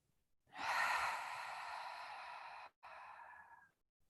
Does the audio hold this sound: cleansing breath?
yes